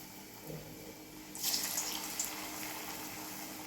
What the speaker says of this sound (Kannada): ಈಗ ಒಂದೊಂದು ಬಿಡ್ತೀನಿ ನೋಡ್ರಿ ಒಳಗೆ